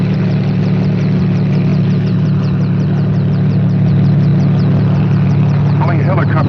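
A loud, constant helicopter engine drone with a rhythmic rotor chop throughout; a voice briefly cuts in near the end.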